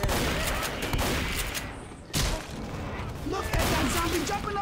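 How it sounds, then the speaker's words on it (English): Rapid bursts of gunfire aimed at a jockey in the zombie shooter Left 4 Dead 2, loud and continuous with a short break midway, over dense game noise and a few other sounds. "I'm shooting that damn jockey several times there and he just wouldn't"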